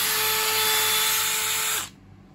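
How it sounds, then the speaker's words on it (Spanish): Bosch GSB 18V-90 C cordless drill whining loudly and steadily with the bit under load, then cutting off abruptly near the end as the tool automatically stops when the bit jams, leaving near silence. "interpreta que hay una subida de intensidad al frenarse la broca bruscamente y lo que nos hace es que nos bloquea la herramienta automáticamente"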